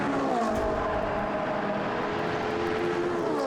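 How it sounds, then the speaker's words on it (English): Race cars from the Blancpain Endurance Series at Monza idle back toward the pit lane after qualifying, a steady continuous engine drone with layered tones and no distinct pass-by, filling the scene at even loudness. "So the cars now, John, make their way back to the pit lane"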